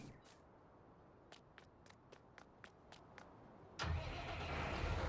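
A tractor engine starts up in Farming Simulator 19 after a series of small clicks. The starter catches at once and settles into a steady, loud idle.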